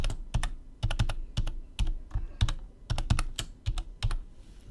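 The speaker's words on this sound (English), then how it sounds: "so let's type in our password." A computer keyboard clatters as a password is typed, with bursts of quick, close keystrokes separated by short pauses.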